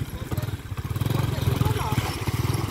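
A motorcycle engine revs and accelerates nearby with a steady, throbbing pulse that builds slightly in loudness over a few seconds.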